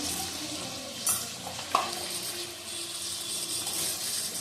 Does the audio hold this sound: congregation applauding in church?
no